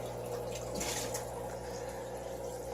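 Aquarium equipment in an axolotl tank, a bubble line oxygenating the water and a filter set to low flow, gives a steady, close watery trickle and fizzing hum that continues evenly with no talk.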